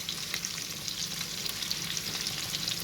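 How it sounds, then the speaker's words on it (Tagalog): Goat adobo with chili flakes being stirred in a pot, a steady sizzling simmer with soft scraping of the spoon throughout, fairly faint and continuous with no talk. "haluin natin para mag-combine ang mga sangkap natin"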